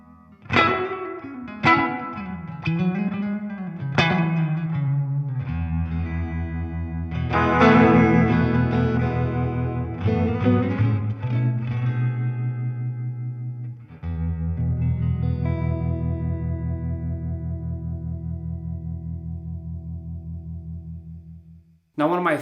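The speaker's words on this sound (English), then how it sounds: "The Univ Viip also sounds very nice and very usable in scenarios where you need a different kind of sound for some song" An electric guitar played through a Uni-Vibe effect on an IK Multimedia TONEX rig, with picked notes and sustained chords swirling and pulsing in a throbbing, chorus-like wobble that rings out over about twenty seconds.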